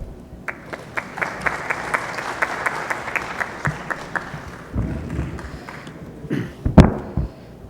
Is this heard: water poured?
no